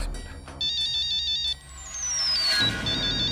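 A mobile phone rings with a bright electronic ringtone, a repeating melodic pattern that cuts off and then sweeps down in pitch, loud and close, with no speech.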